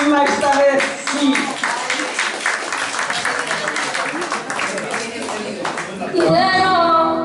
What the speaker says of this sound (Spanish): Un aplauso para Gemma esta vez, sí.